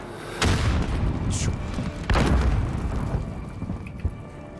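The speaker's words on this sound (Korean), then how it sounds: "수류탄 투척!" Grenade blasts in Call of Duty Warzone: two heavy booms, each a sharp crack followed by a rumbling, rain-like decay, the second stronger, with small impacts scattered between them.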